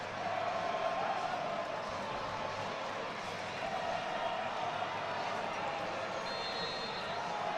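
A big crowd fills Fenway Park before kickoff of a college football game between the Merchant Marine Academy and the Coast Guard Academy. The crowd murmur is steady, distant and fairly faint, with no single cheer standing out.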